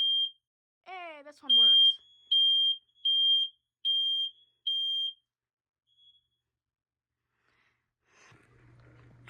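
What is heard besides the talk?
home smoke alarm sounding during test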